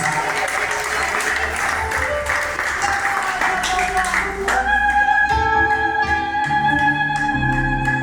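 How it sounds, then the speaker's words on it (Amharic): A church congregation claps for Jesus in a dense, continuous burst during a worship service, with voices and music rising beneath and taking over partway through. "እናጨበጭብለታለን።"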